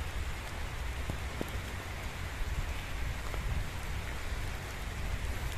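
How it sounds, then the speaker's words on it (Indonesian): Light drizzle falls steadily over a lush mountain valley, making a soft, continuous patter with a few scattered drop taps, no voices present. "gerimis. Oh, gerimis."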